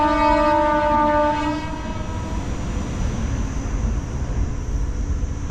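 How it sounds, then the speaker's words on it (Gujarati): A passing train with a long horn blast ringing out over the rumble of wheels, the horn fading after about two seconds while the steady rolling noise of the cars continues, fairly close, with no talk. "ટ્રેન જઈ રહી છે."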